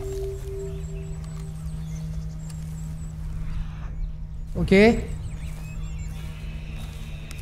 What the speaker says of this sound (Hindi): ये तो घोड़ा है कोई।